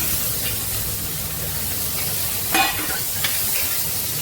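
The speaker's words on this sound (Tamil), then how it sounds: "தக்காளியும் வதங்கட்டும்." Tomatoes and onions frying in a pan give a steady, close hiss of sizzling oil, broken by a couple of brief stirring scrapes, with no voices.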